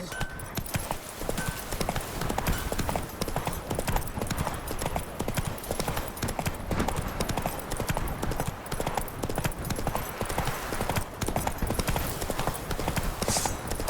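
In The Witcher 3, the horse Roach trots along with a constant rhythmic clip-clop of hooves, loud and close, running steadily for the whole stretch with ambient game sound behind it.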